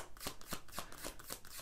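Tarot cards being shuffled by hand, a quick run of crisp riffling bursts repeating in an even rhythm, close and fairly soft with no voices.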